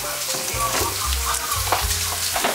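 Noodles with squid, clam and shrimp frying in a pan, a steady loud sizzle with stirring scrapes running throughout, no talk.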